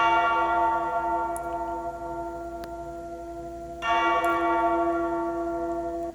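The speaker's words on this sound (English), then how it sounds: "Here's the bell sound." A bright, synthetic bell tone from an Alesis Strike Pro SE electronic drum kit rings out with a sustained harmonic decay, struck again partway through, with a small click between hits; no talking.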